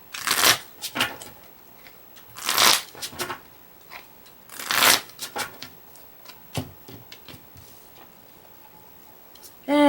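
Pokémon trading cards being shuffled, several loud riffling bursts spaced a couple of seconds apart, with softer card handling clicks between them.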